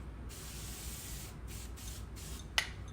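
Several short hissing bursts of SOL de Janeiro radiance body spray, the last one sharper and closer, each a quick misting puff with no talking over them.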